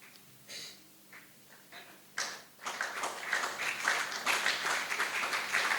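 A church congregation breaks into applause and cheering during a service, starting with scattered claps and swelling into loud, sustained clapping with shouts.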